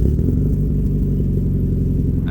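A Mazda NA Miata engine with exhaust leaks runs close up in a steady, throbbing rumble, rising briefly at the very end.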